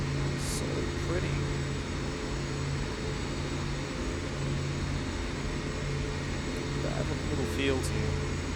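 Twin Otter twin-engine propeller aircraft in a flight simulator game, a steady droning engine hum throughout with a voice talking over it.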